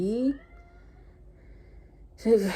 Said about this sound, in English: Yeah, you hear my cat talking out there too.